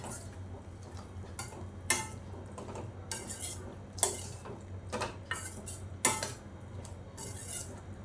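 Snake gourd and chickpeas are stirred in a pan, with a faint low hiss under repeated scraping and clinking spoon strokes at irregular intervals, quiet and without speech.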